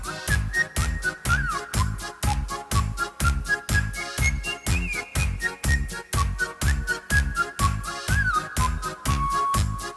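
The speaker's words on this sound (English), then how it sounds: "Nice whistle." Whistle voice from a Yamaha Genos 2 keyboard's polka pop style, a bright whistled melody with slides over a steady bouncy oom-pah beat, continuous and prominent throughout.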